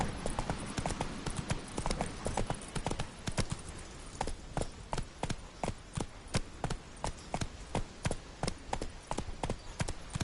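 Horse hooves clip-clopping steadily in The Witcher video game, a continuous run of sharp, evenly spaced hoof strikes at a walking-to-trotting pace, fairly close and alone without talk.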